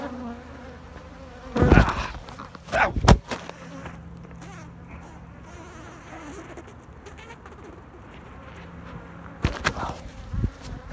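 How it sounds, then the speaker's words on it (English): Honeybees buzz around a nucleus hive during a late October swarm, a steady low insect drone outdoors with a few louder close passes and bumps; no talk. "you can see there's bees all over it"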